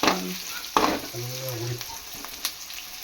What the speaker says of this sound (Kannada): ಚೆನ್ನಾಗಿ ಉರಿಬೇಕಾ ಕಲರ್ ಬರೋವರೆಗೂ ಉರಿಯೋಣ ಎಣ್ಣೆ ಜಾಸ್ತಿ ಆಗಲಿಲ್ವಾ